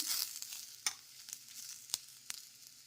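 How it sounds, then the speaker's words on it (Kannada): Mutton sizzling in oil in a pan with ginger, a close, steady hiss of frying broken by a few sharp scrapes of a spoon stirring the meat, no voices. "ಇದನ್ನು ನೋಡಿ, ಈ ಥರ ಎಲ್ಲ ಗೋಲ್ಡನ್ ಕಲರ್ ಬರೋವರೆಗೂ ಹುರ್ಕೋಬೇಕು ಇದನ್ನು."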